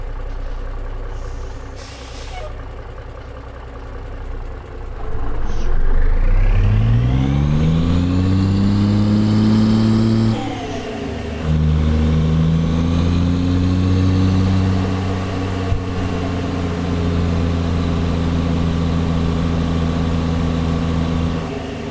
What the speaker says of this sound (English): Start my truck.